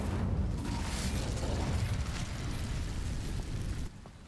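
A fire spell, Incendio, cast in Hogwarts Legacy bursts out as a loud, rumbling whoosh of flame that holds steady for about four seconds and then cuts off abruptly.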